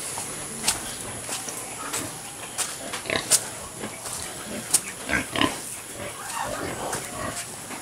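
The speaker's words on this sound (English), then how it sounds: "You're turning into a pretty good looking pig." Pigs grunting in fattening pens bedded with rice hulls: scattered nearby grunts and snorts over a steady barn hum, with someone speaking now and then.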